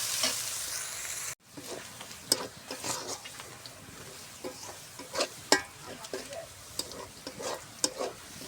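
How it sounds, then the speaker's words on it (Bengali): Onions fry in hot oil left over from frying potatoes, browning into crisp fried onions with a steady moderate sizzle after a brief break, punctuated by frequent spatula scrapes and stirring taps. "ওই তেলে আমি পেঁয়াজগুলো বেরেস্তার মতো করে ভেজে নেব।"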